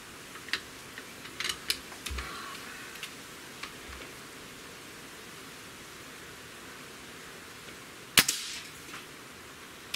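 A Hatsan Torpedo 150 Sniper air rifle fires a single sharp, loud crack, with faint clicks and ticks of handling before it against a steady background hiss.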